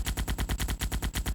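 Rapid, evenly spaced gunfire of spread shots from a Unity DOTS game demo pounds out in a fast machine-gun rhythm, about ten loud synthetic bursts per second with no pauses.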